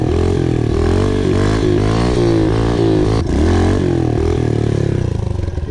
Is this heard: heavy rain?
no